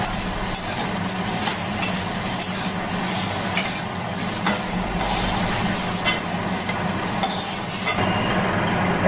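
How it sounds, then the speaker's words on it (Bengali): Eggplant pieces fry in oil over high heat, a loud, steady sizzle with occasional spatula clicks against the pan, cutting abruptly near the end, and no voices. "বেগুনটা আমি হাই আঁচে ভাজবো"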